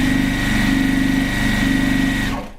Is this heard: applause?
no